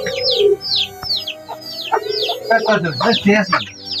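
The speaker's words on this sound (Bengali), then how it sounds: "দেখি কবুতরের বাচ্চা" A pigeon chick gives rapid, repeated high chirping calls at close range, heard among people talking.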